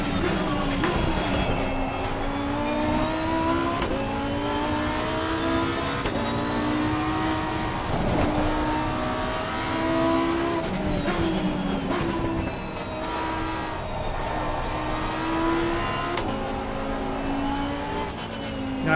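Race car engine in Assetto Corsa Competizione on a new American track, droning loud and steady throughout, with repeated rising pitch sweeps as it climbs through the gears and brief drops at each shift.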